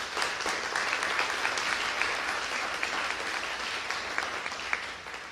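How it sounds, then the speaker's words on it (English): Sustained applause from an indoor crowd at a public announcement event on Chicago's South Side, steady dense clapping with a few sharper claps standing out, no voices. "I think that is worth another round of applause."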